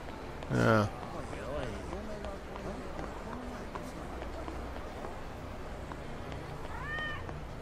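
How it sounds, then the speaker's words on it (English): A cat in Yakuza 0 lets out one loud, clear meow near the start, then fainter mews later over steady street ambience and murmuring voices. "Guess that was a cat."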